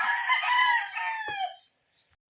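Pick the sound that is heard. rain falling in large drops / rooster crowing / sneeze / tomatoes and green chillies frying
rooster crowing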